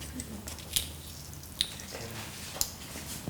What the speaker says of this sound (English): now I'll take the peppers and I'll just break them